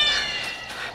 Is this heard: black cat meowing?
yes